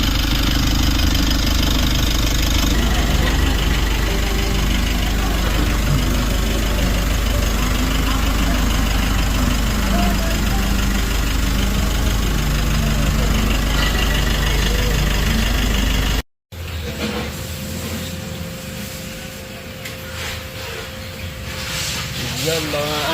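A Mitsubishi L300 Euro van with an oil leak and its oil pan bolts removed runs at a steady, loud idle, close by, with a brief cut partway through before the engine drone carries on.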